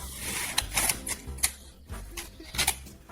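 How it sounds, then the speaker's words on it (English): Packing tape peeled off a cardboard shipping package for a 78 RPM record, giving close, scratchy rips and crackles in short irregular bursts with no talking. "Please gently remove the tape to avoid any potential damage."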